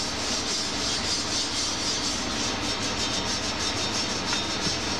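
A Scotch-Brite pad scrubs a rusty metal wheel in steady, continuous back-and-forth rubbing strokes, a dense, even abrasive hiss heard close up with no talking.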